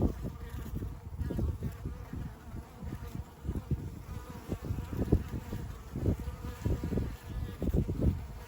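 Bees fly in and out of a log beehive with a close, continuous buzzing hum that swells and fades in overlapping pulses as individual insects pass.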